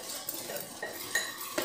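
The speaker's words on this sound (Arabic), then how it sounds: "الاول هدوبهم على في اللبن بارد كده" A spoon stirring ingredients into cold milk, with several light clinks of metal against a bowl over a soft background, brief and fairly quiet.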